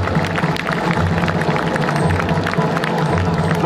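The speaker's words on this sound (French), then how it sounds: "Ils vont maintenant faire un tour d'honneur sous vos applaudissements." An outdoor crowd at a horse festival in Ugine applauds and cheers during a lap of honour, a dense, steady wash of clapping and crowd noise that holds at an even level throughout.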